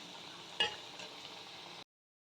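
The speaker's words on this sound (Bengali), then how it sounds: "এইভাবে একটু উল্টে পাল্টে আমি এগুলো ভালো করে ভেজে নেব" Potato pieces frying in oil in a pan while being stirred, a steady close sizzle with one sharp scrape of the spoon early on, then an abrupt stop.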